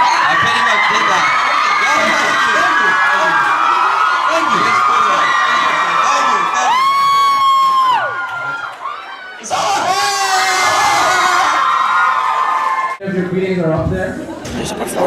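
A street performance crowd in Toronto, loud, close cheering, whooping and shrieking with a performer's amplified voice and music, breaking off briefly midway before erupting again, with people chattering nearby.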